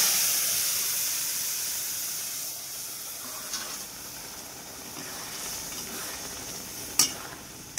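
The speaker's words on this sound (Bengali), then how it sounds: "এখন এই যে তরকাটা দিয়ে দেব।" Hot tempering of reddened garlic and chopped green chilli poured into masoor dal gives a steady, close sizzling hiss that slowly settles, with one sharp clink near the end.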